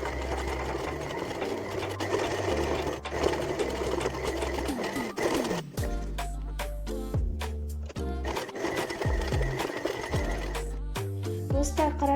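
A sewing machine stitches trousers in rapid mechanical chatter, running in steady stretches broken by short stops and restarts, close by and fairly quiet.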